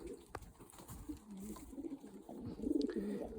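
Soft, low cooing of a young pigeon murmurs in short, uneven bursts, close by and quiet, with no talking.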